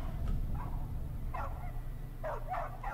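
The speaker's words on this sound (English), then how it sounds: "That is a muscular dog." A muscular dog in a Bayonetta 3 video game trailer gives several short yips and whimpering barks spread across a few seconds, set over a low rumbling background.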